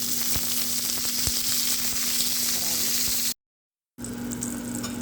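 A hotdog fries in a little olive oil in a small pan, giving a close, continuous crackling sizzle with sharp pops, briefly cut to silence before the frying resumes.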